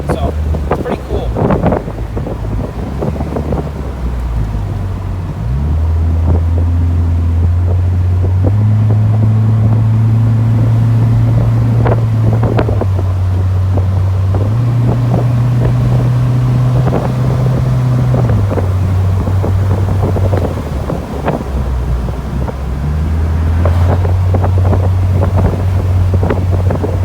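A 1997 Honda Civic Del Sol Si drives along a narrow back road, its engine droning and shifting pitch through the gears, with heavy wind rushing past the microphone the whole time.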